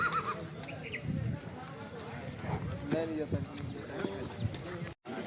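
Horses at a crowded horse market in Yeola, Maharashtra, with hooves clopping and a horse whinnying amid a busy mix of people talking and shouting nearby.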